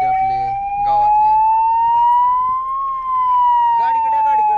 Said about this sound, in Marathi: सायरन आहे ते आपले गावातले.